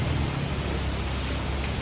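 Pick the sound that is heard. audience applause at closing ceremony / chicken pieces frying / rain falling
rain falling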